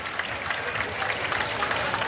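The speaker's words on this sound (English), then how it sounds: "Nice applause for Gilmore being helped off the field." Stadium crowd applauding steadily as an injured college football player is helped off the field at a Baylor versus Texas Tech game in Arlington, Texas; broad, continuous clapping with no talk over it.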